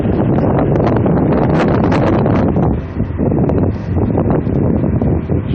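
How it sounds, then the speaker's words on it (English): Strong wind buffeting a microphone outdoors beside a Case IH 550 Quadtrac tractor, a loud continuous roar with a brief dip midway, no voices. "It's a little windy out,"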